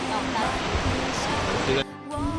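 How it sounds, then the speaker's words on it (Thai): Cascading water at the first tier of the nine-tier Kao Chan waterfall in Ratchaburi makes a steady broadband rush, with someone talking over it and the roar briefly dipping near the end. "นี่นะฮะเป็นน้ำตกเป็นชั้นแรกนะ"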